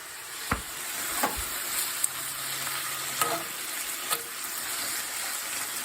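A steak and egg mixture sizzles in a cast iron pan as cayenne pepper is stirred in, with a steady frying hiss and a few sharp scraping taps of a utensil against the pan.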